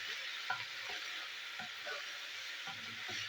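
Sliced bitter gourd sizzles steadily in a hot pan with salt, a continuous close hiss broken by soft scraping stirs of a spatula at an uneven rhythm, with no voices.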